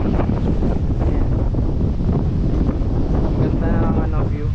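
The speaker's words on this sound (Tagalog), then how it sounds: "Lakas ng hangin." Strong wind buffeting the microphone at a coastal viewpoint near a cave in Ilocos, a continuous loud roaring rush with gusts, and someone speaking briefly over it.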